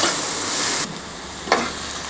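Chopped onion, ginger, garlic and green chillies sizzling in a pan for egg curry, a loud hiss that drops sharply midway, followed by one brief scrape of stirring.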